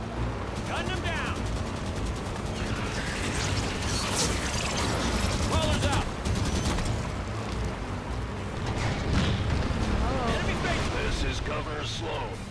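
Gunfire in Halo 5: Guardians, with dense, repeated shots and mechanical clatter layered through a busy battle, close and continuous for over twelve seconds, mixed with muffled voices.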